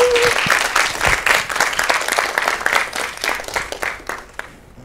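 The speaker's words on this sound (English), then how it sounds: "let's give her another round of applause" An audience at a lecture series gives a student presenter another round of applause, with loud, dense clapping from many people that gradually thins and fades out toward the end.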